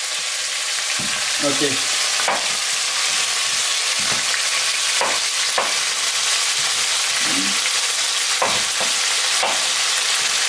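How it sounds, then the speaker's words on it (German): Steady, dense sizzling of chicken frying in a hot pan runs throughout, with a few soft clinks and a brief spoken word. "die müssen wir jetzt schön anbraten, bis sie braun ist."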